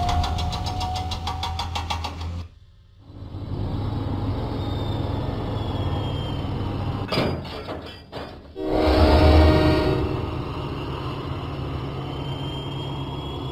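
A diesel engine train chugs along in a Thomas & Friends video game, a steady loud rumble with a rising whistle-like tone early on, a brief dip in sound, then a louder surge near the end.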